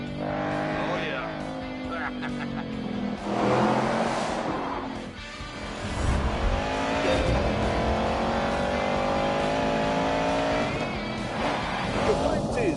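A muscle car is driven hard, engine revving and rising in pitch with bursts of tyre squeal, loud and close throughout, while someone talks over it.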